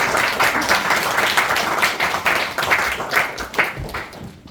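A congregation applauds loudly at a pastor's retirement thanksgiving service in a Korean church, with dense, sustained clapping swelling in uneven waves before cutting off.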